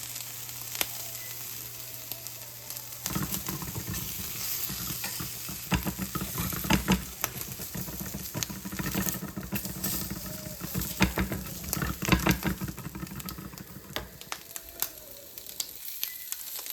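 Biscuits char and sizzle on a hot griddle with melting cheese slices on top, a steady close frying hiss broken by scraping and clattering of a spatula throughout.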